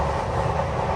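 Vivek Express train running at over 100 km/h, a loud, dense rumble and roar of carriages heard from inside, steady and continuous with no voices.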